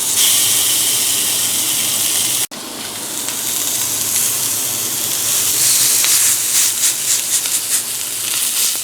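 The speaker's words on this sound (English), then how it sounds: "I'm just gonna make 2 little patties and put them on the frying pan to try." Homemade pork sausage patties sizzle loudly in a frying pan, a bright continuous hiss that breaks briefly, then resumes with crackling pops and spits.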